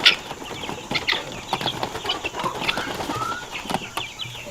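Farm chickens cluck in short irregular bursts close by during morning chores, with soft rustling and scuffling between calls.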